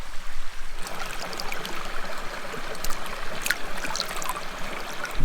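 Clear river water flowing through the Olympos mountain valley in Greece, a close, continuous rushing and trickling babble with small splashes and gurgles throughout.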